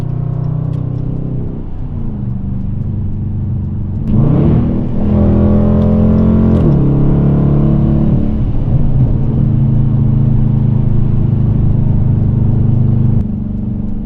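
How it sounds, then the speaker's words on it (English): A Dodge Challenger R/T in track mode revs and accelerates with a deep, loud exhaust rumble, pitch climbing through gears and holding a sustained drone, close and continuous. "you can hear the difference in the exhaust, how loud the car sounds when you're in track mode"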